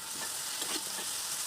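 Green papaya and spices frying in a pan for a vegetarian ghonto, a steady broadband sizzle with a few soft stirring scrapes, close and continuous with no voices.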